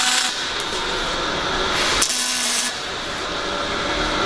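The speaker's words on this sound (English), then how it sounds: "I'm going to do two tacks fast to minimize how much it pulls." Two quick bursts of welding crackle and hiss as tacks go onto a pipe flange, loud and close, the first about two seconds long and the second shorter, with a steady background hum between them.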